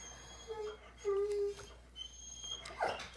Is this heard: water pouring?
no